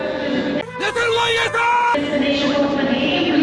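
Protesters at Lisbon airport shout and yell loudly in bursts, with a crowd's raised voices mixed through continuous loud background noise.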